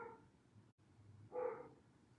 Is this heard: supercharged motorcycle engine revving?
no